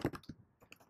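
A computer keyboard typed on in quick bursts, about a dozen soft close clicks with a brief pause in the middle, while code is entered in the Greenfoot programming environment.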